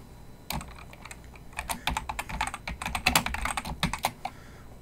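Rapid keystrokes on a computer keyboard while entering a footnote reference, a dense run of close, crisp clicks with uneven rhythm and short pauses, heard alone without speech.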